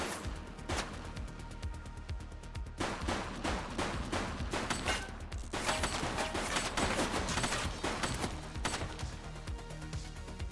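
Gunfire in the police game The Precinct comes in rapid volleys, sharp shots clustering into loud bursts separated by brief lulls, with busy background noise throughout.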